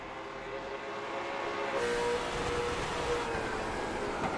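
A short track race car roars as it is driven hard into a corner, a loud sustained engine howl that swells and holds, with crowd and track noise around it.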